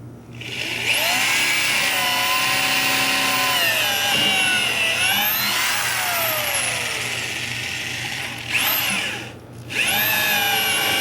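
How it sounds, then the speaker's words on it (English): A power drill bores a pilot hole for rebar in a raised garden bed, a loud close whine that rises and falls in pitch as the bit goes down and backs out, briefly stopping near the end before restarting. "Note that you have to drill down a bit and then come back up."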